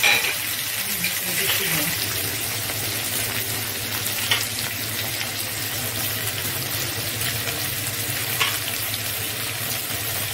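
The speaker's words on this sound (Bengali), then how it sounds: "এবার আমি পেঁয়াজ, আদা, রসুন এগুলো সব একসঙ্গে ভেজে নিচ্ছি।" Onion, ginger and garlic frying together in a spoonful of hot oil for a tilapia kalia fish curry, a steady close sizzle throughout with occasional stirring clinks.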